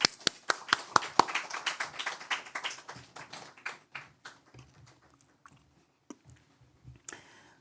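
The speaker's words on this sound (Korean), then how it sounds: "우리 큰 박수로 환영하도록 하겠습니다" Clapping from a church congregation during an Easter Sunday service, starting as dense rapid applause and thinning over several seconds into scattered isolated claps that trail off near the end.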